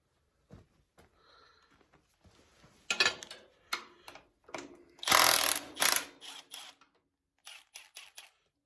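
Ratchet or wrench work removing steering knuckle bolts on a Ford 9N tractor: scattered mechanical clicks and clatter, with a dense loud burst midway and a few short clicks near the end, close by, with no talk.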